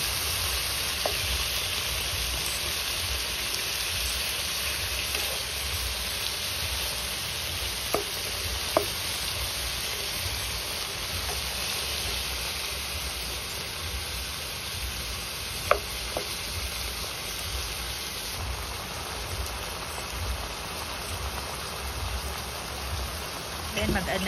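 Chicken pieces frying in a pan for ginataang sigarilyas, a steady broadband sizzle running throughout with a few faint clicks of stirring.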